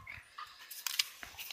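Two large dogs kept in a small cage pant close by in short, quick breathy bursts with faint scuffling, no talk over it.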